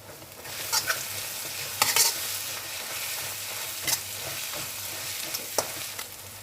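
Vegetables stir-frying in a pan for egg noodles, with a steady close sizzle and occasional scraping knocks from stirring.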